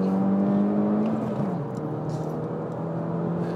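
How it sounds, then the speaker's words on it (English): A 2009 Mini Cooper S Clubman's engine revs up and then drops in pitch as the driver blips the throttle to rev-match a downshift, heard from inside the car as a loud, steady drone with a clear pitch sweep. "Bit of rev matching on the downshift, which is nice"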